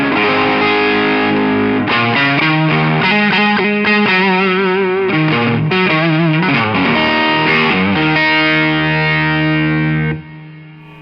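Electric guitar played through a Strymon Riverside multistage drive pedal set to high gain, loud and saturated with sustained distorted chords and riffs, continuous for about ten seconds before the notes ring off.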